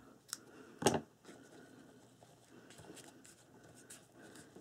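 Scissors snip through craft string after a knot is tied, one sharp close cut followed by quiet handling sounds.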